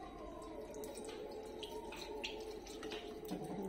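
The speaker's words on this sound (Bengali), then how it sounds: "তারপর হাতটা ধুতে হবে না?" Tap water runs steadily into a sink while hands are washed at home, a soft continuous trickle with light splashing and drips, fairly faint and heard alone.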